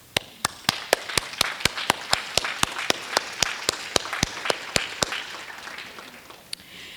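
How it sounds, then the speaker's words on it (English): Sharp, evenly spaced single handclaps ring out close by at a spring milestone celebration, about two per second for roughly five seconds, over a softer background of scattered clapping from the audience. "And I want to pause to give you a round of applause."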